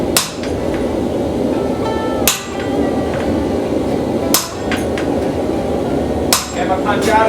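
Heavy hammer blows drive a punch into a hot steel billet while forging an axe in a blacksmith shop, with four loud, widely spaced ringing strikes over a constant roaring forge or blower.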